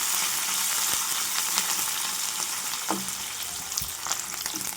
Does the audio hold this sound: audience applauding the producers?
no